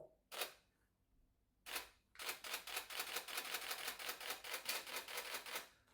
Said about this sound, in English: That sound of the shutter. Click, click, click, click, click.